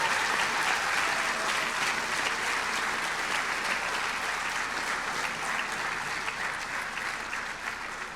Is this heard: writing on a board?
no